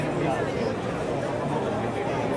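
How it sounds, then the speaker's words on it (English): A large outdoor crowd murmurs after the Pope's address, a steady, dense babble of many voices blending into a continuous hum with no single speaker standing out. "Crowd go away happy. A murmur of approval for what he says by the sides of it."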